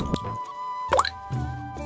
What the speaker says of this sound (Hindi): केवल पीतल के बर्तन में गिरती बूंदों की टिप टिप सुनाई दे रही थी